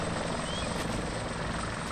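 Helicopter in the military video game ArmA 2 ACE, a steady close rotor and engine roar with constant loudness and no talk.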